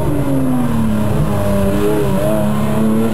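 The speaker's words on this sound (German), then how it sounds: "Startnummer 50 in der Patrick Kummenacher mit dem Renault Clio V6" A Renault Clio V6 race car at a slalom event in Frauenfeld, its engine note steady and loud, sweeping down and then back up in pitch as the driver lifts and reaccelerates through the course.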